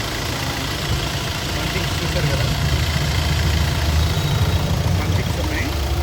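A used Hyundai i20 sits with its engine running in good condition, giving a steady low idle rumble throughout. Someone talks over it close by.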